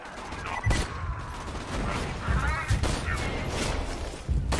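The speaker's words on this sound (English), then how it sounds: "Grenade out!" Explosions and gunfire burst through a Borderlands 2 firefight as a grenade goes off, several heavy thumps and crashes landing over a continuous noisy battle din, with voices talking over the action.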